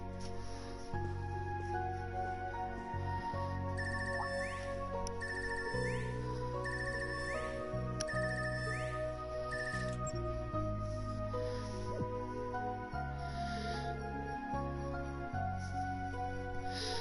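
A cell phone ringtone chirps in repeated bursts in the video game Trails of Cold Steel 3, over steady in-game background music, with no talking.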